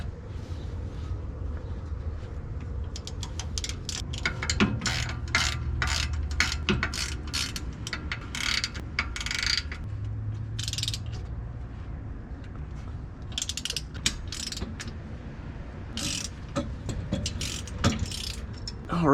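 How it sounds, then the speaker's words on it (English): A socket ratchet works the differential cover bolts on a Shelby GT500 rear end, giving a steady run of sharp clicking bursts over low background rumble, with metallic taps and clinks in between. "you may have to switch for a couple of these, especially the top ones, between a deep and a shallow socket"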